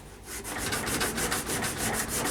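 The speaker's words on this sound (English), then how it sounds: "Again, a little bit of sandpaper." Sandpaper rubs back and forth over a hickory pyramid bow in quick, even strokes. The loud, close scratching repeats steadily and stays alone, with no talk.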